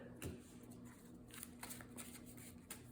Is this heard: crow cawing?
no